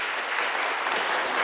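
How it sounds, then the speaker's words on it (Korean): A church congregation applauds during a Sunday worship service, a dense, steady burst of clapping from many hands that fills the room briefly and evenly, with no voices standing out. "박수로 우리가 함께 함성했습니다"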